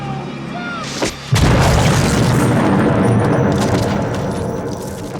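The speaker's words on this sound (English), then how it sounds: "giving Chucky a chance to throw that grenade while they're all distracted" A grenade explosion from the horror film Child's Play 3, a sudden loud boom that swells into a long roaring, crackling rumble and slowly fades, following a brief quieter moment.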